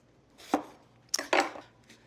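A knife chops a firm, partly peeled eggplant into cubes on a cutting board, giving three close, crisp thuds with a faint fourth at the end.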